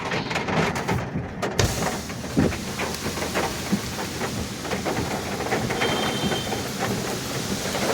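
Steady heavy rain in Chennai roars continuously, with a few louder bursts and low rumbles standing out from the constant wash.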